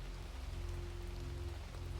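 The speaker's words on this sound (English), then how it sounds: "The rain fell on the roof of Dr. Pennyfeather's surgery" Rain falls steadily on a roof, a dense even patter with a low rumbling undertone, continuous and without voices.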